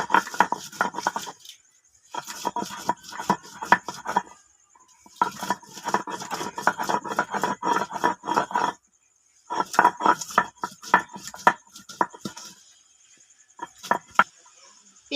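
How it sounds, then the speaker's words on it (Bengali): Garlic and onion are crushed into a paste with a stone grinder, making bursts of rapid scraping and knocking strokes separated by short pauses, close and fairly loud, with no talk over them. "এবার রসুন আর পেঁয়াজটা বেটে নেব।"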